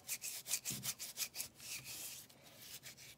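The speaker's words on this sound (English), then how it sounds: "you really want to scrub between your fingers" Exfoliating scrub product rubbed between the fingers, making soft, close, rhythmic rasping swipes in quick succession, quiet and with no talk over it.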